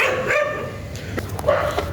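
Dogs at a home where five are kept, giving short barks and yips close by, a few sharp calls spread over two seconds with a higher whine mixed in.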